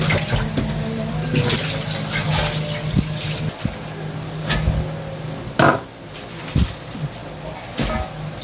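Water pours and splashes steadily into a pot holding pork hock up close, with clinks and knocks of cookware scattered throughout.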